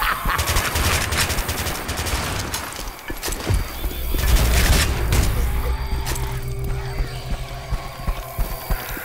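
Dense automatic gunfire in Left 4 Dead 2 as players open up on the witch, sustained loud bursts with a heavy boom and rumble midway, then scattered shots, with voices shouting over it.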